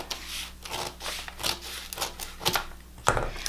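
Paper sewing pattern being cut with scissors at a dart's excess: quiet, irregular snips and rustles in a short series, close by, with soft crinkling between cuts and no voices.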